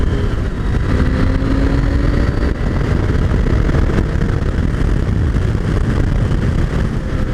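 A KTM 890 Adventure R motorcycle engine drones loudly and steadily while riding, mixed with heavy wind rush. There is no talking.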